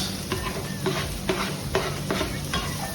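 Onions are stirred around in a hot pan for spiced pilaf rice, a steady close sizzle broken by regular scraping stir strokes about every half second.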